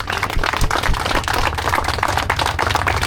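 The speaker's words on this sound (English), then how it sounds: "let's give them a round of applause" A crowd at a Harley-Davidson motorcycle convoy event applauds veterans and active-duty military, dense steady clapping holding loud and continuous for the whole stretch.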